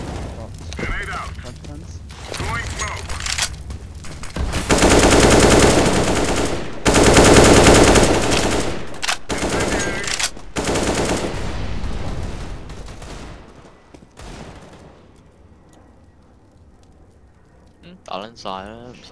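Gunfire rattles in rapid bursts during a competitive Counter-Strike: Global Offensive match, loud and dense at its peak before fading, with players talking excitedly throughout.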